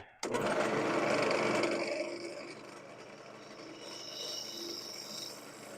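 Wood scrapes against a turning tool on a woodturning lathe, a steady close rasping that starts abruptly and then eases to a lighter, continuous scrape.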